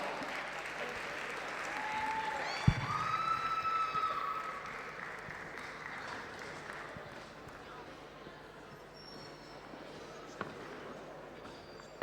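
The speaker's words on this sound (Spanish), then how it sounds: "Fuerte aplauso." Audience applause at a karaoke contest during an anime and manga convention, a sustained wash of clapping with a few whistles and cheers, slowly tapering off.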